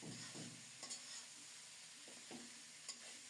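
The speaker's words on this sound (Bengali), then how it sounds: "এখন শুধু নেড়ে চেড়ে ভেজে নেব" Shredded cabbage with beans and carrots being stir-fried in a pan, a steady soft sizzle with scraping stirs and a few sharper clinks of the spatula, close and alone with no talk.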